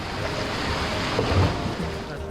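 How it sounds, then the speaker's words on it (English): Ocean waves surging and crashing against rocky island cliffs, a continuous loud roar of surf with wind noise, heard up close along the shoreline. "I just walk along the cliff, holding to the rocks so that the waves don't slam me on the rocks."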